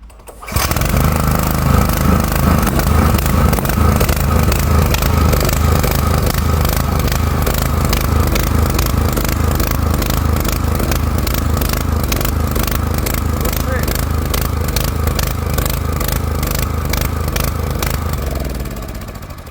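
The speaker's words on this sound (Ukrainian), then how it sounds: "Це вихлоп, виходить, стріляє, да?" A petrol generator with a backfire fault runs loud and close after starting, its rough engine chugging steadily with sharp popping bursts from the exhaust, then winding down at the end.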